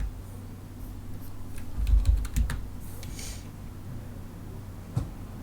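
Fingers tapping on a wireless computer keyboard in a quiet room, a quick cluster of soft clicking keystrokes in the middle and a single isolated tap near the end over low steady background hum.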